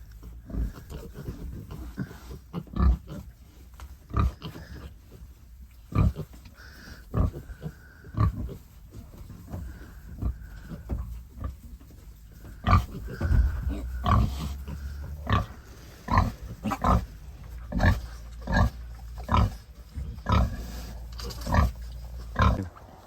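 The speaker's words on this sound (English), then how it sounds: "You're a moody pig, ain't you?" A moody pig on a farm with calves, grunting and snorting in repeated short bursts, close and fairly loud, with irregular rustling and movement between the grunts.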